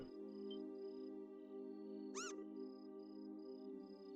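A cartoon cat in the video game Trails in the Sky gives a single short, bright meow over a steady game music bed, with no talking.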